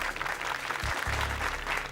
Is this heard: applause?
yes